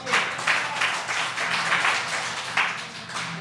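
An audience at a comedy writing workshop claps steadily for several seconds, a dense, even patter of many hands at moderate distance with a few louder accents.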